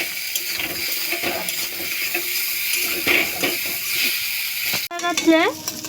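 Chowmein-style Maggi noodles with peanuts stir-fried in a pan, a steady sizzle broken by scraping stirs, a sharp clatter near the end, with talk over it.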